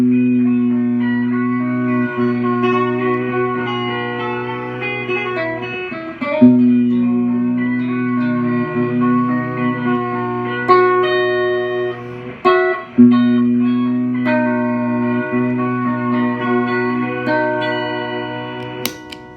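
A Zvex Lo-Fi Loop Junky looper pedal, handmade in Minneapolis, plays back looped guitar notes with steady sustained tones and a soft analog hiss underneath. Brief dropouts and glitches break the loop around the middle and later on.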